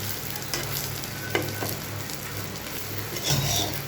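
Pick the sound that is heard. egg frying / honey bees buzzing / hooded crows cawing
egg frying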